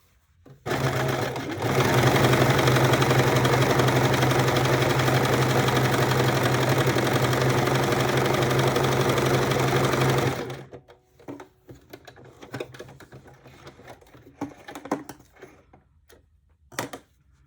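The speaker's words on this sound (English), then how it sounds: "I'll sew just next to this patch" A sewing machine stitches along a patch on a pair of pants, a steady loud whirring run of about nine seconds that stops abruptly, followed by quiet handling clicks and rustles.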